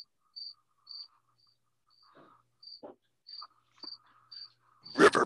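A cricket chirps in short, evenly spaced pulses as a joke-flop effect, then a brief louder rustle at the end, with no talk.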